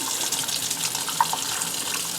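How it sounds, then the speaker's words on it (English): Lukewarm tap water streams over an etched glass cup in a sink to rinse off etching cream while stencil vinyl is still on it, a steady close splashing with one small clink. "So the first thing I do is I rinse while I have the vinyl still on it"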